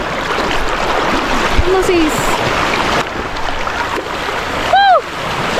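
Strong sea waves crash and surge around a boat in a continuous rushing roar, with a voice speaking briefly and excited shouts mixed in.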